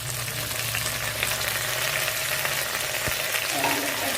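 Tomatoes fry in a chicken masala with a dense, continuous sizzle, close and steady, broken by an occasional soft knock of a spoon against the pan.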